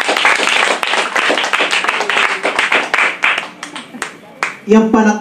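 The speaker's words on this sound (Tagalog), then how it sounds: "Yung pagpalakpak na yan, hindi ito para sa akin eh." A church congregation at a charismatic preaching service claps together in praise, a dense, steady patter of many hands filling the room, thinning briefly before a final louder swell with a voice rising over it.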